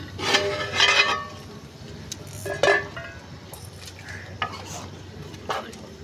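A potato and eggplant curry fries in a pot with a low sizzle, broken by several bursts of spoon stirring and clinks against the metal, fairly close and without talk.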